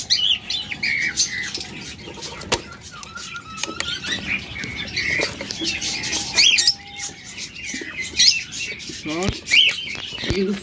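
Pet budgerigars or lovebirds in a large breeding box squawk and chirp continuously, a busy overlapping chatter of sharp calls at close range with no talking over it.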